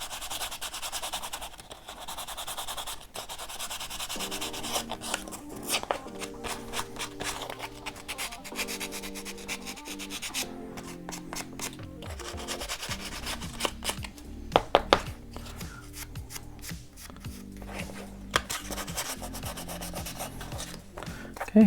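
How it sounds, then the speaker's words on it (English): Sandpaper rubbed by hand against a part for an Estes K-35 Astron Constellation model rocket, giving a continuous close scratchy rasp in repeated strokes over a steady tonal background, with no talking. "So just a piece of sandpaper in your hand will allow you to form that proper"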